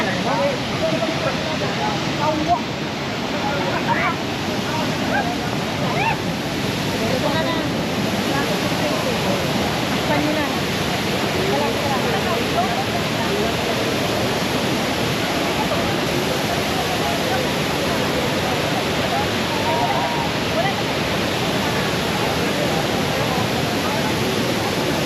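Kawasan Falls thunders in a continuous, wide roaring wash of water, steady and close for the full stretch, with faint voices mixed in beneath the noise.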